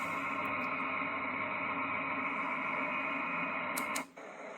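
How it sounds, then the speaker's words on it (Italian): A HOMGEN baby white noise machine plays a flowing water track, a steady even rushing hiss that holds constant before dropping sharply near the end as the setting changes. "acqua che scorre"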